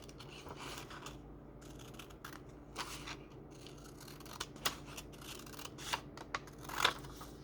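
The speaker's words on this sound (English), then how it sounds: "I'm going to cut it down." Quiet snips of scissors cutting a paper journal card, a string of small irregular crisp clicks close to the listener, growing sharper toward the end.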